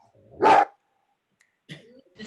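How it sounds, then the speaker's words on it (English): A dog lets out one loud, sharp bark close to the microphone during an online board meeting, followed by quieter, fainter sounds after a pause. "The dog voted yes."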